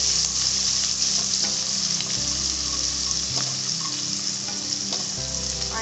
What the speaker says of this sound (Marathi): आता आपण मिरच्या घालून घेऊया बारीक चिरलेल्या, आणि हे आपल्याला थोडंसं परतून घ्यायचंय